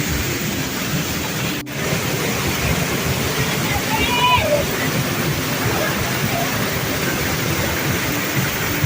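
Steady roar of the Nanchima waterfall in Palanda, Ecuador, a constant broadband rush close by, with a brief knock early on and faint voices in the background.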